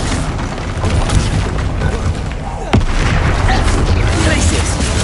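A Bombarda blasting spell goes off in Hogwarts Legacy with a loud, booming explosion. A sharp burst lands midway through dense, continuous combat rumble, with no voices over it.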